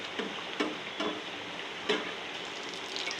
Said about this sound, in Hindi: इनको करते हैं फ्राई। और तेल भी गर्म है